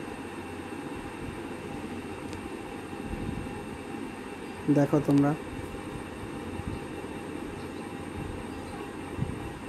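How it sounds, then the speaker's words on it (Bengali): A train pulling into Banpur railway station, a low rumble of wagons under the platform ambience with a brief loud horn blast midway and a voice speaking briefly. "ট্রেন আসছে বন্ধুরা। এই যে গাড়ি ঢুকছে।"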